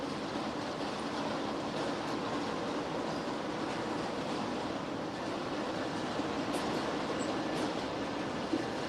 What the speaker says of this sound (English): there's a train arriving on track 16 right now